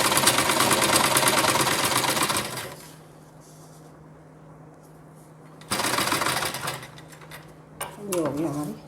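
A sewing machine stitches a designer sleeve in two loud, steady runs of rapid needle chatter, separated by a quiet pause, with brief handling clicks near the end.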